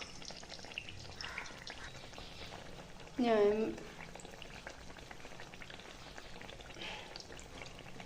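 Neyyappam fries in coconut oil with a spoon of ghee, a continuous soft bubbling sizzle with a short burst of louder activity midway, and a voice speaks briefly over it.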